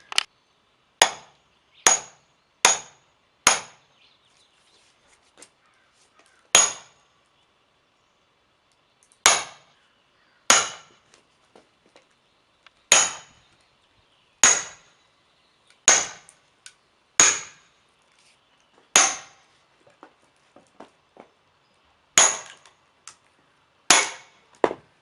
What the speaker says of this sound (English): I'm ready to use the hammer.